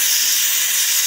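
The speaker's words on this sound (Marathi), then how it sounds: "आता कुकर जरासा थंड झाला की भात लावेल प्रियंका." A pressure cooker of dal vents steam at a camp in Spiti Valley, a loud, close, continuous hiss with no voices.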